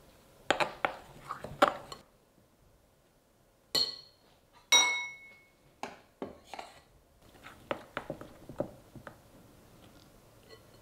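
A spoon clinks and scrapes against bowls while icing sugar is stirred together, giving scattered sharp taps and rattles close by with quiet gaps between them.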